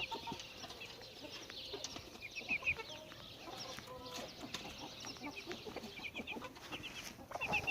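Hens and young chicks cluck and peep quietly while pecking at scattered wheat, a busy, continuous murmur of overlapping calls, close but soft.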